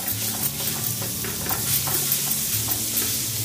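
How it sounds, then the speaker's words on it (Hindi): Grilled sandwich frying in butter in a pan on a home stove, a steady soft sizzle with light scraping and stirring sounds throughout, no talking. "अभी हम दूसरा भी फ्राई कर लेते हैं"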